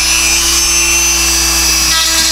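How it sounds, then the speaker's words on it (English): Power drill boring a pilot hole into a 3D-printed plastic grill for an 80's NASCAR Monte Carlo, a steady loud whine running unbroken throughout at close range with no talking. "I'm going to drill a pilot hole to get things started right about there"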